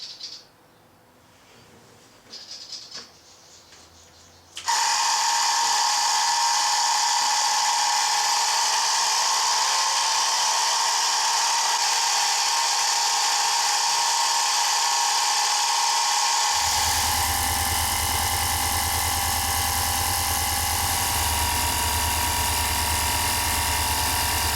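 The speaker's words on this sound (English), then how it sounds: "So little mini compressor, here we go. This is a noisy bloody thing, but it gets the job done." A small portable air compressor inflating a motorcycle tire runs loud and steady, a harsh continuous buzzing drone that starts abruptly after a few seconds of quiet handling noise and deepens in tone toward the end.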